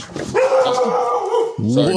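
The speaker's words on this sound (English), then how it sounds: "I have the fluffiest, friendliest dog, but he sounds like a ferocious guard dog." A fluffy, friendly house dog barks after a doorbell, a loud, deep, sustained bark close by, with a person speaking over it at the start.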